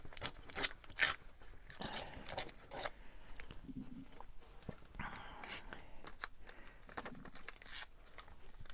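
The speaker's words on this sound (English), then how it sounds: "it would help if I tore the paper" Paper being torn from a junk mail envelope, a series of quiet, close ripping and crinkling bursts in irregular spurts separated by brief pauses.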